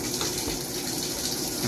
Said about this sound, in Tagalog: So yan, nagpasok na siya tubig.